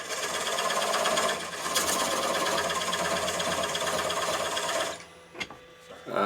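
A woodturning lathe spins a small off-centre platter held between centres while a straight-sided parting tool plunges in to cut a recess, giving a steady close buzzing whir that drops away near the end, followed by a brief tap.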